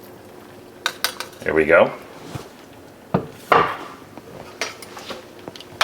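Pesto being spooned into a bowl in a home kitchen, with scattered scraping and clinking of a utensil against the dish, close and intermittent, and a voice speaking briefly.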